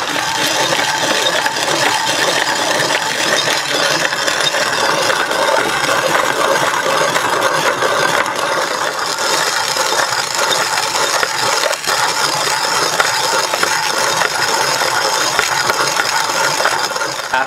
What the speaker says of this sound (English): So we grind our beans by hand, fresh for every cut.